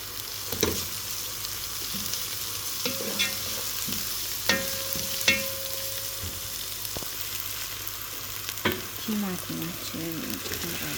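Onions frying in a pan for an okra and meat stew, a steady hiss of sizzling oil running throughout with occasional sharp clicks and scrapes of stirring, no voices.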